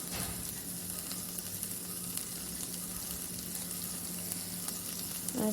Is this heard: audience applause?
no